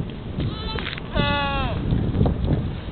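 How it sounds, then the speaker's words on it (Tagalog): A goat lets out a loud, wavering bleat close by, with other brief animal calls and background rustle around it. "Kambing."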